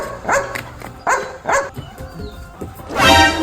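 A dog barks a few times close by, in short separate woofs, followed by a brief burst of other noise.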